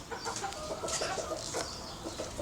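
Backyard chickens cluck and murmur in a busy, continuous chorus of short calls, close and moderately loud, with no talking over them.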